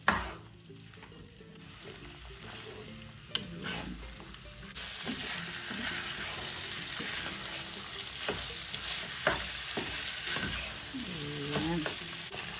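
Ketchup and tomato paste are stirred into a watery pineapple mixture in a pan, giving a continuous close sizzle with a spoon scraping, knocking and clinking against the pan throughout; no voices.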